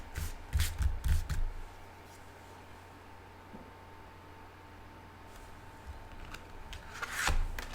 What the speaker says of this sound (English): So I'm spreading the cards out here on the table.